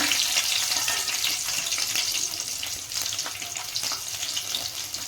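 Garlic sizzling in hot oil while tempering for fenugreek kadubu, an even, dense crackling hiss that holds steady throughout, close and with no talk.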